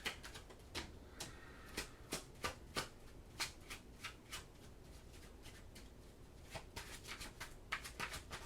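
A deck of tarot cards being shuffled by hand: quiet, rapid bursts of crisp flicking and riffling in an uneven rhythm, close by with no talking.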